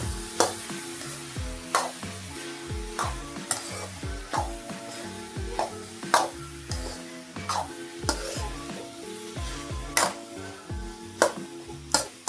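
Grated carrots fry in desi ghee for gajar halwa, stirred with repeated scraping strokes in a steady rhythm over a continuous close sizzle, with occasional light clinks of the spoon against the pan.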